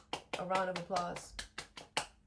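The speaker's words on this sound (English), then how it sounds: "Let me give you a round of applause." One person claps roughly eight or nine times in a loose, uneven rhythm, the claps sharp and close, while a voice talks over the middle of the run.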